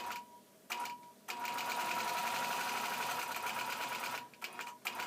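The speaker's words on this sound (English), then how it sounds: "I'm going to double stitch all this too." Sewing machine running a long double-stitched arc in quilting thread work, a steady continuous mechanical whir with brief starts and pauses at the beginning and end, close and fairly loud.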